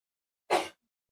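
A single short, sharp human sneeze bursts out once, close and fairly loud, with silence before and after.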